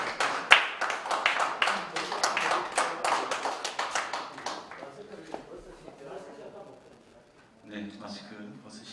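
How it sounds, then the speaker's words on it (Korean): An audience at a Presbyterian church general assembly claps warmly, a dense burst of applause for several seconds that thins and fades away, followed by a few quiet sounds from the room. "박수 주시기 바랍니다"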